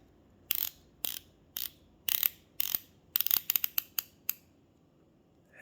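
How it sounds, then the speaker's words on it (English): Sinn U1 SE dive watch bezel turning through its 60-click action, a loud series of sharp, close ratcheting clicks, first spaced about half a second apart, then a quick burst of rapid clicks, all alone against faint background hiss. "click action, and is very loud, and this is like a belt-fed machine gun"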